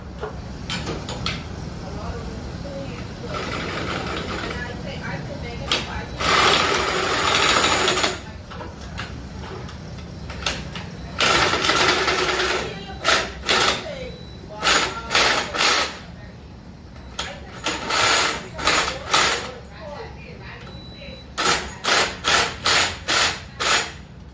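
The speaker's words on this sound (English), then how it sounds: "now I'm gonna get my sawzall and cut the pipe" A reciprocating saw cuts through a pipe that has a pull string inside, on a home communications job, buzzing in several short bursts that grow quicker and choppier toward the end, loud and nearby.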